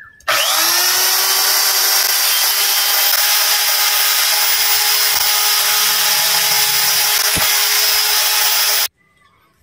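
A power drill bores screw holes in clear acrylic sheet for a Suzuki X4 two-stroke motorcycle part, running loud, steady and continuous for about nine seconds before cutting off abruptly.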